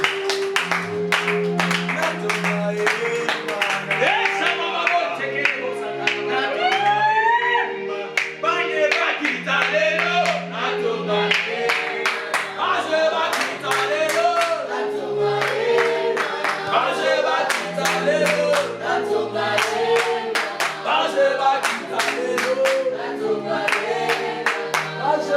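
A worship congregation claps in steady rhythm for about 25 seconds while singing and shouting acclamations to God, with a church band playing underneath.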